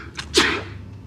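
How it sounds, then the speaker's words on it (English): A single sharp human sneeze, close and brief, rising quickly and fading within a second, with no talk around it. "On the bright side, your allergy medicine's obviously working. You haven't sneezed."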